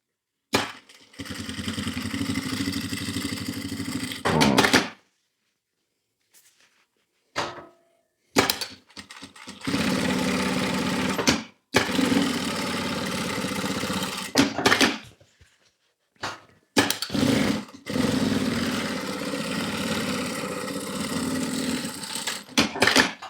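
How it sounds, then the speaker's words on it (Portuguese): A sewing machine stitches a safety seam across the pocket section of a fabric notebook bag in several long whirring runs, close and loud, separated by pauses with handling clicks and rustles. "vou passar outra costura de segurança aqui, ó, só para fixar essa parte dos bolsos"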